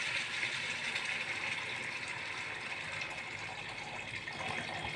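Water is poured into egg curry in a pan, a steady close rushing pour lasting several seconds with no voice over it.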